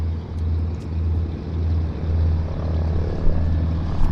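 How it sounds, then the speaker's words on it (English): A propeller airplane holds a steady engine run-up in a run-up bay at Vancouver airport, giving a loud, continuous, throbbing drone that stays level throughout with no talk over it. "we can let him do his engine run-up"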